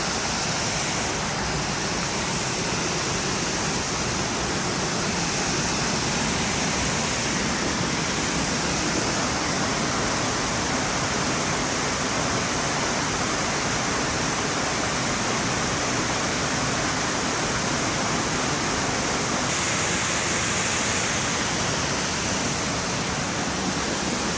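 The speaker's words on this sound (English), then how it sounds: "Walking right behind the waterfall." South Falls at Silver Falls State Park in Oregon, a 93-foot waterfall, roars as a dense, steady, loud rush of falling water, heard close from a trail behind the falls with no voices.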